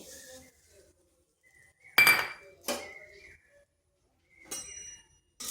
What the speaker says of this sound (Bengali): এখানে কড়াই বসিয়েছি দিয়ে দিচ্ছি এক চামচ সাদা তেল